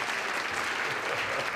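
Seminar attendees at a motivational talk clap together in a sustained, even burst of applause, full and close, with no voices rising above it.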